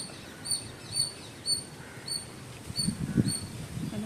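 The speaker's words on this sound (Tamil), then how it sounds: "அது என்ன குருவியாக இருக்கும்" Small bird in a leafy natural setting chirping in short, faint, high tweets repeated about every half second, with some low rustling and background noise building toward the end.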